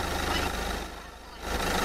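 A car engine idles in the traffic-light game Traffic Lights Deluxe, a steady low rumble with a faint rhythmic pulse that dips quieter midway before swelling back.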